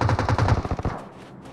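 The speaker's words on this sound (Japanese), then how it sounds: "この銃声だ" A rapid burst of automatic gunfire rattles out for about a second, then cuts off, leaving a brief fading tail.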